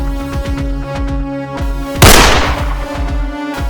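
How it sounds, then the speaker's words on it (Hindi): A single loud gunshot bang in a rural Hindi village film scene in a forest, cracking sharply midway through over a steady bed of droning background music. "अरे गोली चली"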